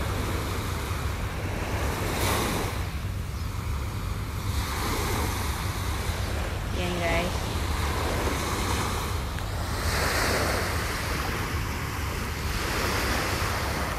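Sea waves wash steadily at the East Coast Park seaside, a broad continuous surf hiss mixed with wind buffeting the microphone, with a brief voice early on.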